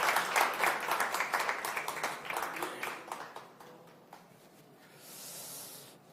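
A hall audience applauds a candidate at a People Power Party presidential primary vision presentation; dense clapping rises, then thins and fades within a few seconds, leaving a soft hiss.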